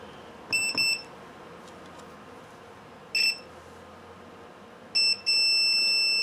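Continuity tester on a phone line beeps in short high-pitched electronic tones, a double beep, then a single one, then a longer sustained tone, over faint background noise.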